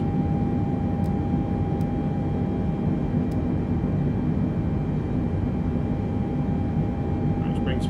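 A Boeing 747 airliner climbs out after takeoff in a flight simulator, a steady broadband jet roar with a sustained engine whine, even and continuous throughout.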